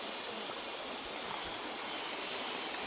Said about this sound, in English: Here, the water is more faster.